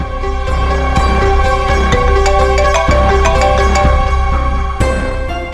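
A loud electronic ringtone melody repeats steadily with bright tonal notes over a low hum, no voices.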